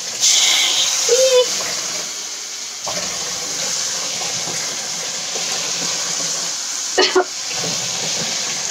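Water poured into a hot pan with burned food gives a loud hissing sizzle at first, then a long steady steam hiss. Sharp clatters break in near the end, with voices heard partway through.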